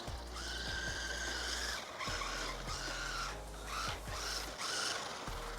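A mini 2S RC drift car, running without its drift wheels, skids in a series of short, high squeals that come in quick bursts over a steady motor whine, with no talking.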